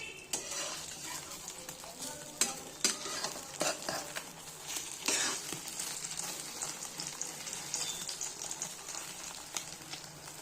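A thin egg layer fries in a pan and is folded over, a soft sizzle under frequent scraping and tapping of a spatula against the pan, close and busy throughout.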